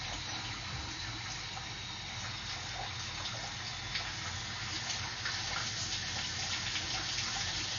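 Water runs steadily through a drain pipe to flush it clear, a continuous dense rushing wash at even volume with no voices.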